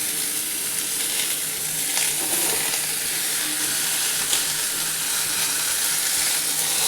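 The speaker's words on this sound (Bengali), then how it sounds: "এবারে আলুটাও একটু পটলের সাথে ভেজে নিই।" Potato pieces frying with pointed gourd in a pan, a steady close sizzle and crackle of oil that holds at an even level throughout, with faint stirring scrapes.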